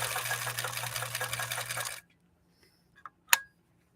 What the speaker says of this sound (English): we actually maintained stitch balance very nicely through these 2 layers of protected full grain leather